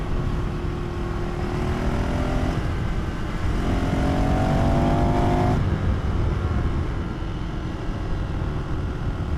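A KTM lightweight adventure motorcycle engine drones loudly and steadily while being ridden, with rising rev tones and heavy wind rush and no voice.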